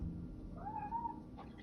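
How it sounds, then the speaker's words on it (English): A house cat lets out a single drawn-out meow indoors, faint and somewhat distant over a low steady hum. "sorry, that was my cat."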